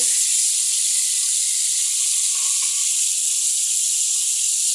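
Water poured into a hot frying pan after frying fish hisses and sizzles in a steady, loud, continuous rush that stays even throughout, with no voices over it.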